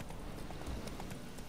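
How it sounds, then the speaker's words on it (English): Horse hooves clip-clop at a steady gallop in The Witcher 3, a continuous rhythmic pattering of running steps over low game ambience, with no talking. "Run, Roach."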